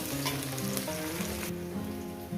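Onion and green chili frying together in a pan, a dense steady sizzle close by with light stirring, no talking.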